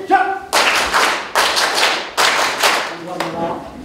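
Audience at a 40th-anniversary celebration bursts into clapping in three or four loud rhythmic waves, each starting abruptly and tapering, with voices underneath.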